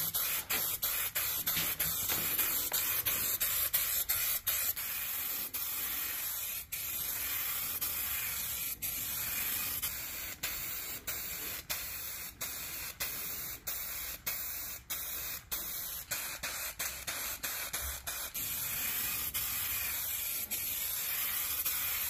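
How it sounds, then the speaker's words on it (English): Zinsser BIN shellac primer sprayed from an aerosol rattle can onto a fireplace surround: a steady, close hiss that runs nearly unbroken for over twenty seconds, with small dips where the nozzle is released. "I'm going to be using rattle can Zinsser binks"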